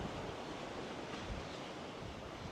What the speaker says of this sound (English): This wind is really blowing today.